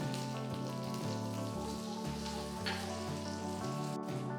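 Dried red chili and curry leaves, with mustard seeds, crackle and sizzle steadily in hot oil for a chicken mango curry, a dense continuous frying hiss heard close with no talk, while a low droning hum runs underneath.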